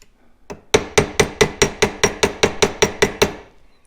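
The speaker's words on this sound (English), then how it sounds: "lay it down on the anvil, just try to give it a little love tap" Hammer on a Stanley No. 5 hand plane part resting on an anvil: a dozen evenly spaced, ringing metallic taps, close and loud, each with a short decaying ring, after a brief softer knock.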